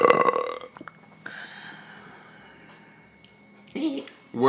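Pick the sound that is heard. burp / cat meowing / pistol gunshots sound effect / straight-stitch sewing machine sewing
burp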